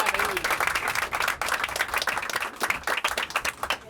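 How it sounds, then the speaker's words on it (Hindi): Audience applause at a Pakistani cricket event honoring the women's under-19 team, a steady wash of many hands clapping for about four seconds, with some voices mixed in. "ये तो आप लोगों की तालियां बताएंगे"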